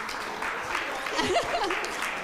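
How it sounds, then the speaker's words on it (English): Audience applause at a panel discussion on women leading in politics, a broad steady wash of clapping with a voice briefly rising through the middle. "Could we give her a round of applause?"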